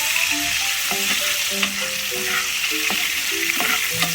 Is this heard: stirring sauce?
yes